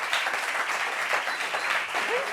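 An audience applauds Darius with dense, steady clapping that holds at an even level throughout, plus a faint voice near the end.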